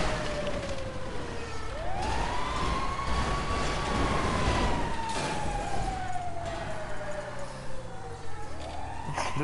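A fire truck siren in the video game GTA wails in slow rising and falling sweeps, loud and steady over busy game background noise for the whole stretch.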